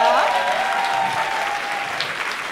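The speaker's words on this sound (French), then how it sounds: "on va aussi garder encore quelques applaudissements pour Claire Noël" Audience applause for Claire Noël, the organiser, at a closing-bows gathering: a dense, steady wash of many hands clapping, loud and sustained throughout without a break.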